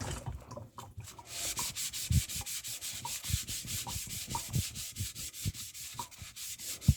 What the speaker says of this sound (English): I did not scrub the black ones, so let me do that now